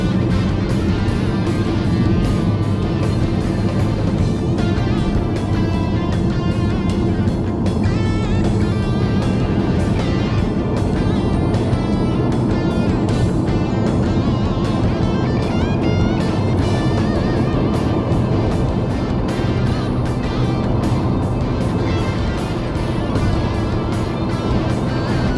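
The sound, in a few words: Mini car driving on a winding road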